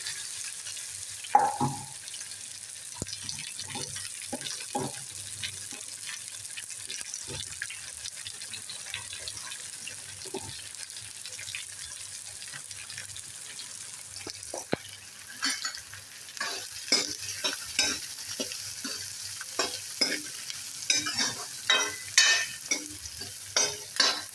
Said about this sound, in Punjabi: ਪਿਆਜ਼ਾਂ ਨੂੰ ਆਪਾਂ ਥੋੜੀ ਦੇਰ ਤੱਕ ਭੁੰਨਾਂਗੇ